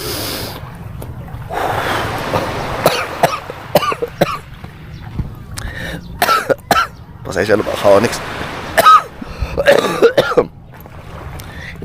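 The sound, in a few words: coughing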